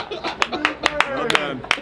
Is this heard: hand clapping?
yes